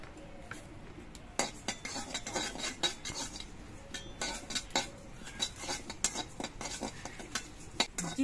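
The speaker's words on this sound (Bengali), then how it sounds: "তার জন্য আমি শুকনো কড়াইতে অল্প করে কিছু জিরে ভেজে নিচ্ছি।" Cumin seeds dry-roasting in a dry wok, with a utensil stirring and scraping in repeated clinking strokes at close range, a faint sizzle underneath and no voices.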